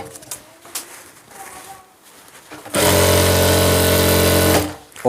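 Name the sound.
sewing machine stitching pajama fabric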